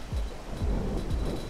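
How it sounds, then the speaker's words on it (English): Rain falls in the video game Rain World as a steady wash, with low rumbling thunder-like swells rolling in about every half second. "Where it was raining like this too."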